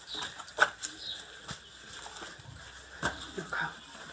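A dog at a village home in the hills whimpers softly in short, high whines between light panting and small shuffling sounds, close and fairly quiet, with a few faint voices in the background.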